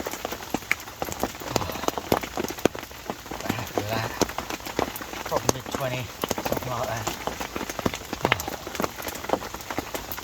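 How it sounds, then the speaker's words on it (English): Rain patters steadily on a surface at a carp fishing lake, a dense, close crackle of drops running throughout while someone talks over it. "Right in the middle of the rain."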